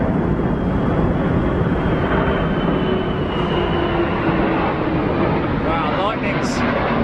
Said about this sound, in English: Eurofighter.